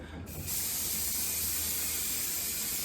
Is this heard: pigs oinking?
no